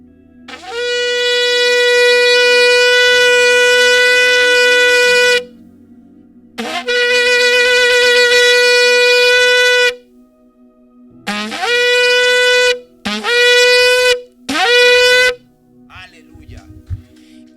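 A recorded shofar sounded for Yom Teruah, giving long sustained blasts, then a string of shorter rising calls with brief gaps between them, loud and alone.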